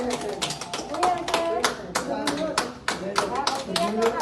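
Clinic staff in Guayaquil clap for recovered COVID patients as they leave, with sharp irregular claps close by. Voices talk and call out over the clapping.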